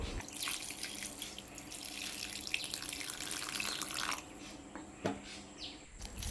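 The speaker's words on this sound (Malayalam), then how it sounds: "കുറച്ച് വെള്ളം ഒഴിച്ചോ." Water is poured over soaking tamarind, a steady trickling splash close by for about four seconds before tapering into a few faint drips and light clinks, with faint bird chirps in the background.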